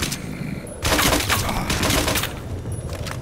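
Rapid bursts of Beretta pistol fire in the video game STALKER: Shadow of Chernobyl, several quick loud shots crackling close together with no talk.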